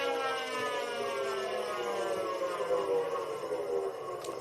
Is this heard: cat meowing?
no